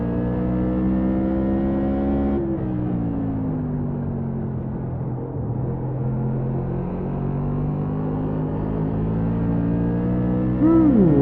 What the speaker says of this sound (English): I could hear it scrubbing the tires a little bit